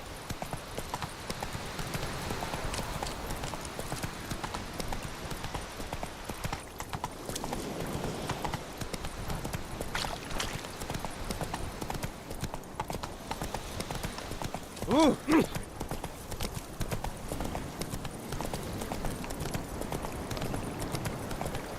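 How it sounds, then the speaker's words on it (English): Hooves of the horse Roach clip-clop steadily in The Witcher 3, a rhythmic trot running under ambient game sound and speaking voices throughout. "Whoa there, Roach"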